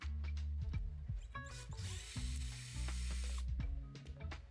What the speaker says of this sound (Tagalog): mag-drill ng butas para sa tornilyo